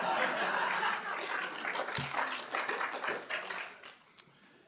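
Theater audience at a comedy festival show applauding, a dense spread of clapping that fades out toward the end, with a brief laugh or tap near the close.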